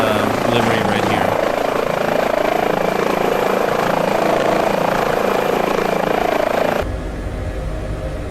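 Helicopter in Ukrainian police livery from Microsoft Flight Simulator, a steady loud rotor and turbine drone that continues throughout, then drops abruptly and thins out near the end.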